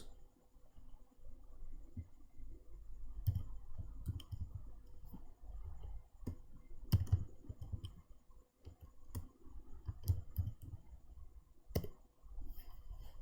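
Keys clatter on a computer keyboard as values are typed into Excel cells, giving soft, irregular clicks with brief pauses, quiet and close, with no voices.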